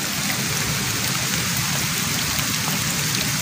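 Steady rain falls outdoors during eel fishing, a dense even hiss of drops on surfaces with no pause across the few seconds.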